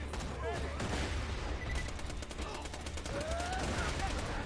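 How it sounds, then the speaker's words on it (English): Rapid automatic gunfire and explosions from the Borderlands 2 video game, a dense, continuous burst of shots with whizzing effects throughout, mixed with game sounds. "I hit two shots, and they're both headshots"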